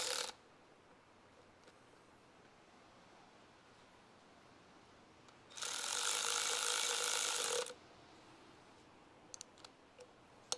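A 9/16 socket ratchet snugs bolts on a Terra drivetrain and frame, giving a short burst of rapid pawl clicking midway through an otherwise quiet stretch, with a few faint taps at the start and end.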